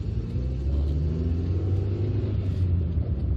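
A 1989 Nissan Sunny 1.6 GSX saloon engine drones steadily from inside the cabin while driving, a low rumble with road noise that holds at a constant level.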